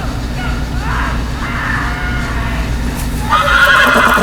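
Horse neighs in a Game of Thrones Telltale video game, with a couple of whinnying calls rising midway and a brighter burst near the end, over a steady low background rumble.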